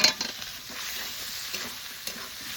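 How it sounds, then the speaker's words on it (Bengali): Potatoes stirred into a spice masala frying in oil for a rohu fish curry, a steady close sizzle with spoon scrapes against the pan and a couple of sharper clinks. "আলু দিয়ে একটু নাড়াচাড়া দিয়ে নিলাম।"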